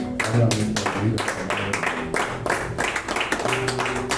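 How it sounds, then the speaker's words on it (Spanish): A church congregation clapping during a Spanish-language service, with distinct claps coming in bursts over voices and tones in the background. "Vamos a darle un fuerte aplauso al que vive"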